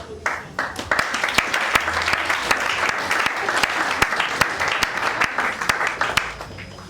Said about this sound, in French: Donc, nous invitons le président Merveille sur vos applaudissements.